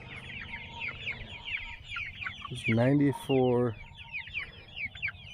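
Broiler chickens in their pen cluck and chatter steadily from close by. One bird gives two loud, drawn-out calls in the middle, and someone speaks briefly over the flock.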